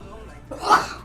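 A single short sneeze bursts out near the microphone, preceded by a brief intake of breath.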